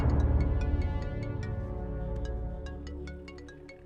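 A phone ringtone plays in a Telugu movie scene, a repeating melodic electronic chime of bright tonal pulses over a low music bed, ringing steadily and fading slightly toward the end, with no talking.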